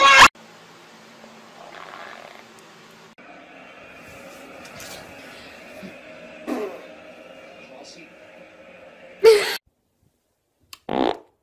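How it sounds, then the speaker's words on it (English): Several short, loud farts from girls, a compilation of abrupt bursts near the start, in the middle and toward the end, close to the mic, separated by quieter stretches with some talking. "God, I farted."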